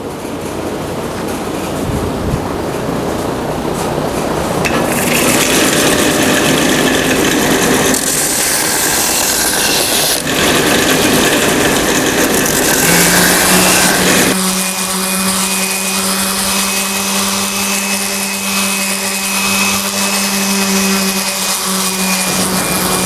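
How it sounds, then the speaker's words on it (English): A big power sander works burn marks off tapered oak table legs, a loud continuous whining drone that shifts in pitch and intensity as the tool moves over the wood, running steadily throughout with no talking. "now I'm going to have to take these burnt marks out using my big sander"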